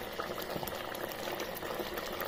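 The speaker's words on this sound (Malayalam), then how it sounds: "തിളച്ച് നല്ല കുറുകിക്കൊണ്ടിരിക്കുകയാണ്" A curry with no coconut boils steadily in a pot as it thickens, giving a close, continuous bubbling and simmering with no voices.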